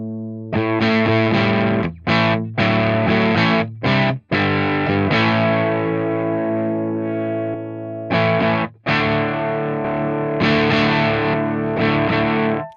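A saturated, heavily distorted electric guitar through a Tonex pedal plays sustained chords and riffs with brief pauses, thick and loud, close up with no voices.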